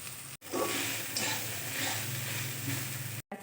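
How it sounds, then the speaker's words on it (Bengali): Soybean chunks frying in a hot pan with salt and turmeric, a steady close sizzle with occasional stirring, broken by two brief silences near the start and end. "সয়াবিনটা দিয়ে ভালোভাবে ভেজে নেব"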